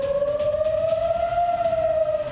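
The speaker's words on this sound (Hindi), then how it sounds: "इस बीच इजराइल में युद्ध का सायरन बज रहा है" A wartime air-raid siren wails in Tel Aviv, Israel. The steady, loud rising-and-falling tone holds without a break, with no voices over it.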